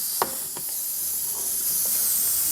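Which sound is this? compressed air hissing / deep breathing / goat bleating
compressed air hissing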